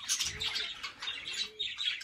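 Pet lovebirds chirp and tweet in quick, high-pitched bursts, fairly close and continuous with no talking.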